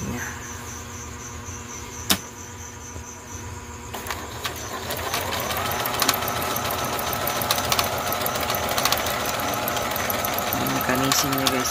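A portable computerized sewing machine stitches with a steady mechanical whir and rapid rhythmic needle clatter, building from quieter handling clicks into continuous close running; voices talk briefly in the background.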